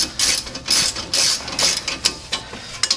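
A ratchet with a 13 mm socket loosens the rear brake caliper bolts on a 2005-14 Mustang, producing loud, close, rapid clicking in several quick bursts, with shorter ticks toward the end.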